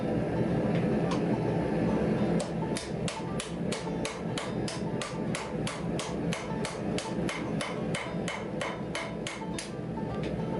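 A hammer strikes 5160 leaf spring steel bar stock to texture a knife blank, a close, loud run of rapid, evenly spaced metallic blows over a steady background hum, with no talking.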